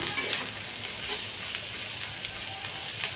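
Bitter gourd (karela) sizzles and crackles steadily while frying in a pan, a continuous close hiss with faint stirring scrapes and no talk.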